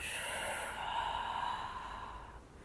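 One long, soft exhale drifts out through the nose as the knees come into the chest during a gentle yoga routine. The breathy airflow is close and quiet and fades out toward the end.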